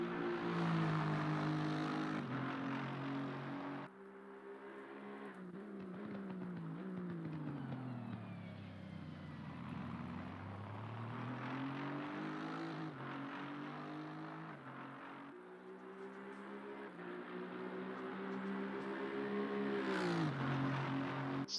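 A race car in the Assetto Corsa Competizione game runs a flying qualifying lap at Spa in treacherous conditions, its engine droning and rising and falling in pitch through gear changes and corners, loud and continuous without talk.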